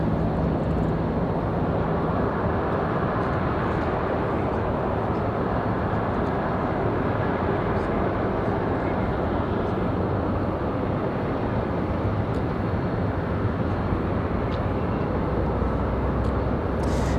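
An airliner departing Raleigh Durham airport for MCO produces a constant loud engine roar, a dense broadband rumble that holds steady throughout, with no talk.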